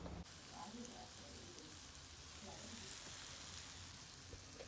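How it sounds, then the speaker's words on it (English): Yuca frying in a pan at home, a steady close sizzle and crackle of oil running throughout with faint clinks, no talking. "I think I'm going to fry the rest of my yuca."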